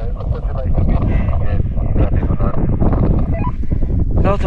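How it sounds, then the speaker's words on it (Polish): Strong wind roars across a microphone high on Aconcagua, a loud, continuous, gusty rumble, and a voice talks over it throughout. "Dosyć mocny wiatr tutaj jest."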